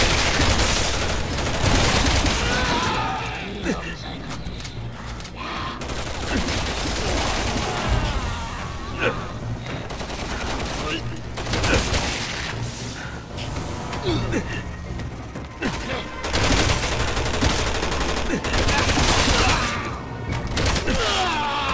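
Gunfire in the Resident Evil 6 video game: dense, loud bursts of automatic fire and single shots with thuds and mechanical clatter over about twenty seconds, mixed with game noise and brief voices.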